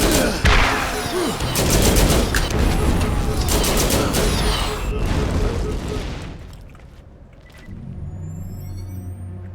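Rapid burst fire from a rocket launcher in a video game, a dense run of loud cracking blasts for about six seconds before fading into quieter rumbling ambience.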